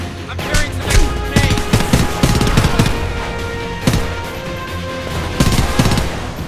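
Rapid gunfire from the shooter game Homefront, with repeated sharp shots and bursts over a constant battle din, loud and close, with a little talk mixed in.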